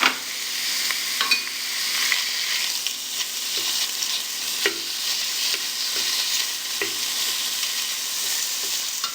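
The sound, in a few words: ground meat frying in olive oil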